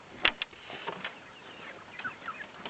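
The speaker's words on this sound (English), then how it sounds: "And I had to let the chickens out right now." Chickens on a farm clucking after being let out in the morning, a few sharp close clucks followed by softer scattered clucks and faint rustling.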